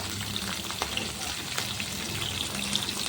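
Chana dal and green chillies fry in hot oil, giving a soft, steady sizzle with faint crackles and pops throughout, quiet and unbroken with no talking over it.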